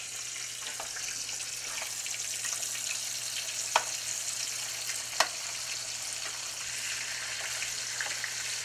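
Cornmeal-crusted mountain trout frying in a pan, a steady bright sizzle throughout with a couple of sharp pops and light scraping as the fish is turned, close and continuous without talk.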